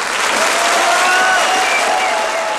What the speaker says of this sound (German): Hier eine Szene vom absoluten Höhepunkt der Inszenierung, die stürmischen Applaus auslöste.